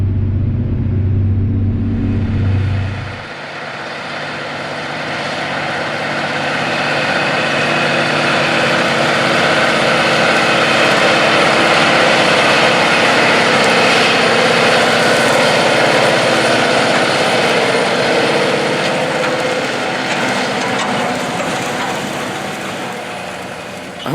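A 620 hp track tractor working a spring field gives off a loud, steady engine drone with broad mechanical roar, swelling slightly mid-way, after a brief low rumble at the start.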